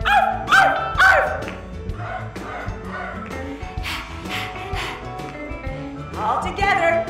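Voices playfully imitate dog barks in rhythmic woof and arf bursts at a showcase performance, mixed with speech and lively background sound.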